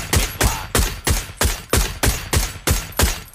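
Rapid gunfire in the battle royale game PUBG: nine sharp, loud shots in an even rhythm about a third of a second apart, each followed by a brief decaying echo.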